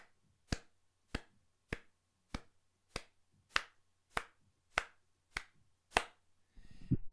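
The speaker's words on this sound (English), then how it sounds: "So if I was to clap this," Crisp, close solo hand claps tapping out the quaver rhythm of Bach's Badinerie, about ten evenly spaced claps in a steady pulse with silence between them, followed by a brief rustle at the end.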